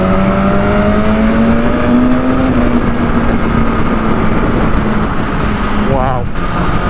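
BMW S1000RR superbike engine in a tunnel, a loud continuous roar with a rising and falling engine tone that reverberates heavily, mixed with strong wind rush.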